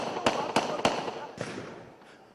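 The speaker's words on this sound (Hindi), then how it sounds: "और फिर से आवाज आ रही है फायरिंग की" Sharp cracks of gunfire from an armed encounter operation with militants in Gurdaspur, several shots in a quick uneven burst, then a pause and another shot, fairly distant over faint background noise.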